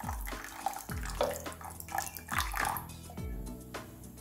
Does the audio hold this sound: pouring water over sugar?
yes